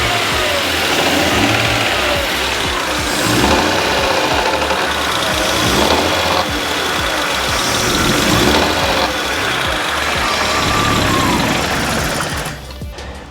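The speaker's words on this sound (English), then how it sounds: "The engine developed a knocking noise coming from the top end." A rebuilt BMW E36 engine runs with a knock from the top end, a loose intake cam, giving a loud, steady mechanical clatter with rises in revs throughout before cutting off at the end.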